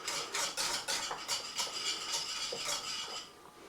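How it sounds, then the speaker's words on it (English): A spoon stirring béchamel sauce with nutmeg in a pot, with repeated soft scraping and clinking strokes in a steady rhythm, close and moderately loud, with no voices. "I'm going to stir it all"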